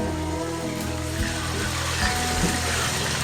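A kilo of chicken is added to a hot pan for korma and fries with a close, continuous sizzle and bubbling, along with a few soft stirring knocks and no voices.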